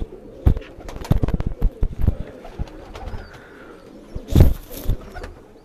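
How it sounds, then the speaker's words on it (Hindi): Pigeons in a rooftop loft, including a pearl-marked green pigeon, give soft cooing calls mixed with sharp close taps and flutters, a louder burst of wing movement near the end. "ये मोती वाला कबूतर। ये मेरा सब्ज मोतियों वाला कबूतर"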